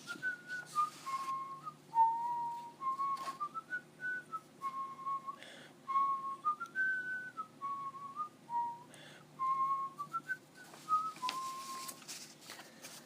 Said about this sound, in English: cheerfully whistled as he walked to work